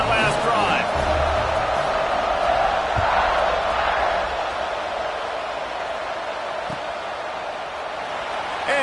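A football stadium crowd at kickoff roars in a dense, steady wash of cheering that fades slightly toward the end, with commentary heard over it.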